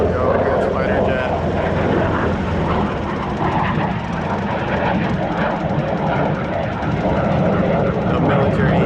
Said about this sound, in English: The military takes off at Honolulu Airport as well.